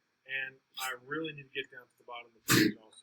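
A single short sneeze bursts out near the end, sharp and loud, following a stretch of ordinary classroom speech from a teacher reviewing SAT questions.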